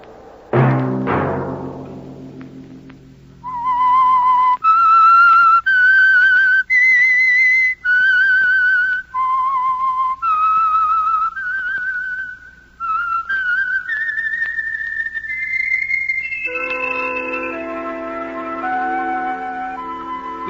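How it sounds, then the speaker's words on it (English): The signature whistle of The Whistler radio drama, a 1951 broadcast: after a brief struck opening, a lone whistled melody climbs note by note, loud and clear, ending on a held chord. "Let that whistle be your signal for the Whistler each Sunday night at the same time."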